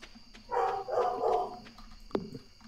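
A pack of dogs barks in a cartoon farming game, several bursts packed together in the middle, then one sharp bark near the end, fairly close and moderately loud with no talk over it.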